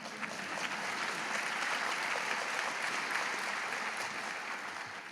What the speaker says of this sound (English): I recognize that applause is for Joan,